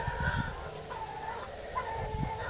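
Roosters cluck and call close by in a rural yard, a few short clucks and a faint crow-like note over a low background rumble.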